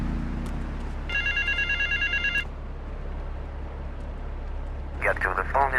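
A phone rings with an electronic trilling bell in the video game GTA III, two bursts separated by a pause, set over a low ambient rumble.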